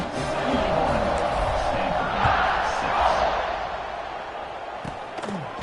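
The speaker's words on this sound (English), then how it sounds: "They're set to kick it off, and this crowd now ready to get behind them." Football stadium crowd at kickoff, a loud steady roar of cheering across the whole span, with scattered thumps and a commentator's voice over it.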